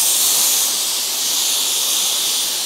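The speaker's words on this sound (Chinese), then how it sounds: "你用这个 Easy Plus 可以用很高温高压的蒸汽，然后替这些玩偶做很近距离的消毒" An IZZI Plus dry steam garment steamer releases a continuous jet of high-temperature, high-pressure steam while sanitising plush toys up close, a loud, steady hiss throughout.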